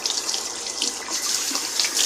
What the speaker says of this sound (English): Then I'm washing my spoon.